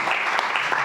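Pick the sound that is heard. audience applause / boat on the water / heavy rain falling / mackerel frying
audience applause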